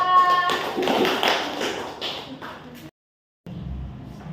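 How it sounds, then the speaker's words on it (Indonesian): Classroom applause for a student group, a few seconds of scattered, fairly close hand claps that cut off abruptly into silence before quiet room noise returns. "Tepuk tangan untuk kelompok 2."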